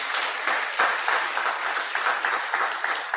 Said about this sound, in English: So a big round of applause to our diversity hall and Dawn.